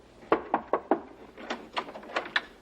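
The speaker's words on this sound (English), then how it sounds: "There was a knock at the door." Knocks at a door come as two quick sets: four firm, evenly spaced raps, a short pause, then a second, slightly softer and less even series, heard close and without talk.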